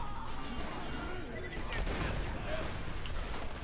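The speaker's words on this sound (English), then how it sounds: "Oh my god! So much explosions!" Dense, continuous barrage of explosions and gunfire from the Borderlands 2 video game, a loud, unbroken wall of blasts and shots with heavy low-end rumble and no pauses.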